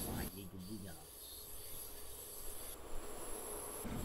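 Siemens class 442 Talent 2 electric train running in Train Simulator 2018 on the Innsbruck–Garmisch route, a steady rolling rumble with wheel and rail rubbing noise that swells slightly partway, continuous throughout.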